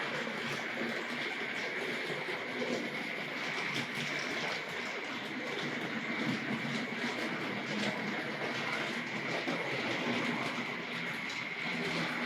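A Tri-ang R.56 Transcontinental 4-6-4 tank model locomotive with solid wheels runs on rails pulling TC coaches, giving a steady, soft, continuous trundling rattle that stays even and close throughout.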